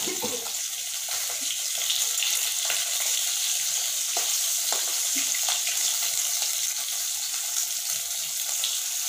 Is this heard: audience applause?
no